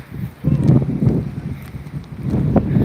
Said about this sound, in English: It's been windy too. The wind does get really fierce here.